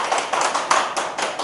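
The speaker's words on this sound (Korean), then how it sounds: "네, 박수 쳐주시면 너무 좋습니다" Audience at a high school admissions information session claps together in a brief, dense burst of applause that fills the room evenly.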